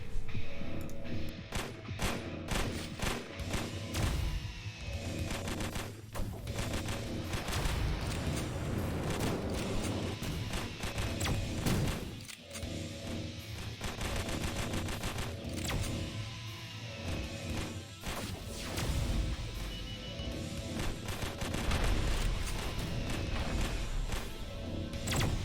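Constant rapid gunfire and explosive impacts from the video game Exterminator, homing missiles among the shots, a busy, relentless barrage of crackling blasts that never lets up.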